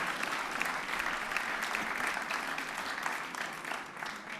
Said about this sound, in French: Je pense aux musiciens, on pouvait applaudir le public.